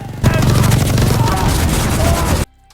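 A loud, continuous burst of rapid-fire gunfire from a rotary Gatling gun in an action movie, rattling nonstop for about two seconds before cutting off.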